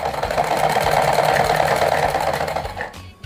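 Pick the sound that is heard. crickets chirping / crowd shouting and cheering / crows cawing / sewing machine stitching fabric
sewing machine stitching fabric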